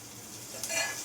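Dal tempering (tadka) sizzling in a hot pan, a brief soft hiss that swells toward the end, with no talk.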